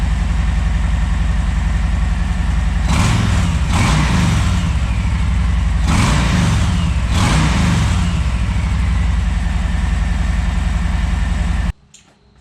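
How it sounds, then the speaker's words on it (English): A 2020 Harley-Davidson Low Rider S on its stock exhaust idles with a loud, steady lopey rumble, then gets four sharp throttle blips that rise and fall back to idle before the engine cuts off near the end. "I'm going to give you guys a sound check of what the bike sounds like now with stock pipes."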